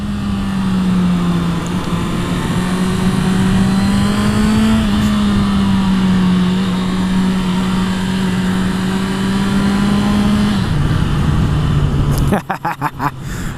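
A Honda CB650F motorcycle engine holds high revs in a loud, steady whine that rises and falls slightly while riding, ending with a burst of wind buffeting.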